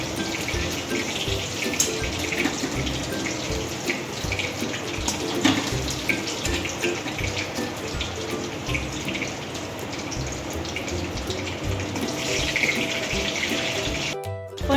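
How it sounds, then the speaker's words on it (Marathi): Water runs steadily and loudly, like a tap gushing into a sink or bowl, as fried paneer goes into cold water; the flow continues without a break and ends with a short clatter. "आपण आता हे पनीर थंड पाण्यात टाकणार आहोत"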